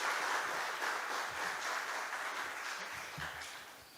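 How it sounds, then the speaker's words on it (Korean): A church congregation claps steadily in a warm, sustained round of applause that slowly fades toward the end. "박수로 맞이하겠습니다."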